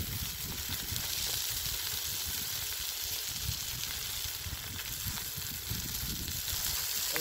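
Fish grilling over a wood fire gives a steady, soft sizzle and hiss with faint crackles. It is continuous and fairly quiet, with no talk.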